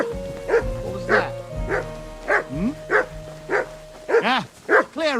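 Dog barking in the video game Kingdom Come: Deliverance II, a string of loud, close, rhythmic barks over a low game background hum, with someone speaking between them.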